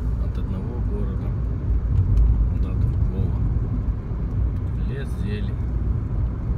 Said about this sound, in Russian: Едем примерно по проселочной дороге от одного города.